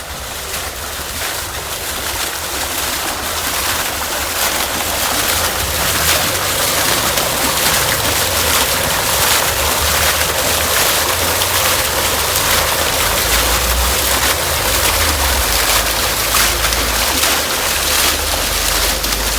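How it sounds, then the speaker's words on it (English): A water fountain splashes steadily in an outdoor sensory garden, a continuous close wash of falling water that stays even and unbroken throughout, with no voices over it. "Here's another water fountain."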